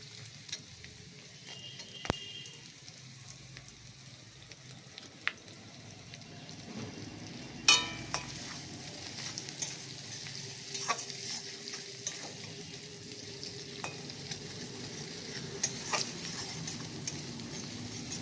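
Onions fry in a pan until reddish, with a low, steady sizzle, scattered pops and ticks, and occasional clinks of utensils over about eighteen seconds.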